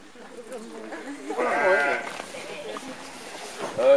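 Lambs bleating in a second sheepfold on a farm, several close, wavering cries that overlap and rise toward the end, with a person talking over them.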